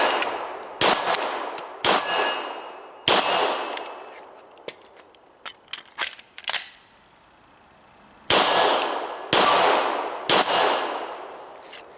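Seven sharp ringing clangs of 9mm rounds from a Glock 17 Gen 4 pistol striking a steel plate 25 yards out, spaced irregularly with a few faint ticks in between, loud and bright with short decaying rings.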